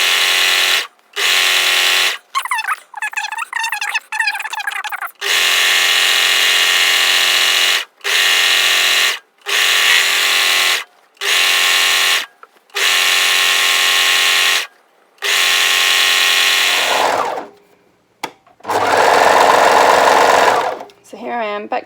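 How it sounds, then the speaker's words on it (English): A sewing machine stitches the whole way around a dress seam in repeated bursts of steady, close whirring, with short pauses between runs and a brief spoken interruption midway. "So I'm going to sew with that uppermost, so that's got the best edge."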